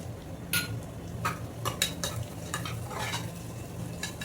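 Whole spices go into a hot pan and are stirred, giving a few sharp clinks and scrapes of a utensil against the metal over a faint steady sizzle, with no talking.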